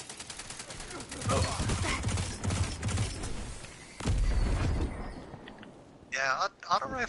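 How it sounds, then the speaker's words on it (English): Rapid auto rifle gunfire from the video game Destiny 2 rattles in bursts through a competitive zone-control match, with voices talking over much of the shooting and a brief electronic warble near the end. "Auto rifles are kind of the thing."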